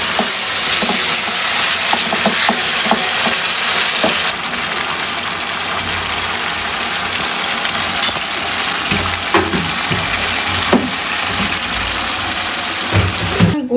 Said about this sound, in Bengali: এখন ভালোভাবে নেড়ে চেড়ে মিশিয়ে দেবো।